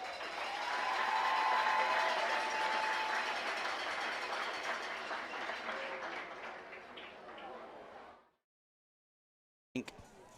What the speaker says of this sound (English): how about a warm round of applause and an eagle welcome to the 1985 Washita Christian Eagles